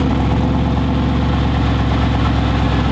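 Mercedes AMG SLS with an 850 hp upgrade idling, a loud, close, deep rumble with steady low pulsing and a slight rough burble that holds even throughout, no voices over it.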